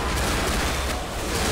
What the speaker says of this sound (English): It's a machine gun! It's a machine gun!